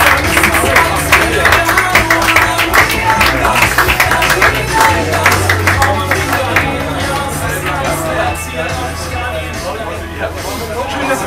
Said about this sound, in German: Einen großen Applaus!